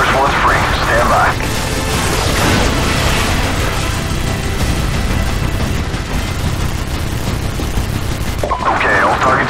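Call of Duty 4: Modern Warfare gunfire pours from a fortified fifth-floor position, loud bursts of automatic fire and booms running continuously through the scene, with radio voices speaking over the shooting.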